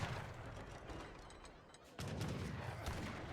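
Heavy cannon and gunfire boom in the real-time strategy game Age of Empires III, a dense, rumbling barrage of overlapping shots that briefly dips and then resumes with a sharp new blast.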